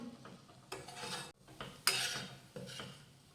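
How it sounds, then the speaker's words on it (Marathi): Gram flour and onions sautéed in a pan, a spoon scraping and stirring to break up lumps in bursts of close metallic rasping and clinking, with brief pauses between strokes. "तर अशा गुठळ्या मोडत मोडत आपल्याला हे परतून घ्यायचे"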